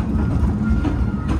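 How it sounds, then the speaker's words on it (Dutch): Efteling amusement park train rolling steadily along its rails, a continuous low rumble with faint clickety-clack, heard from on board with no talking. "we zitten weer in de trein"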